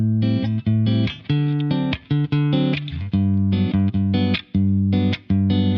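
Electric guitar with single-coil pickups through a compressor effect playing chords and single notes with a tight, evenly squashed tone, sustained and consistently loud between short breaks.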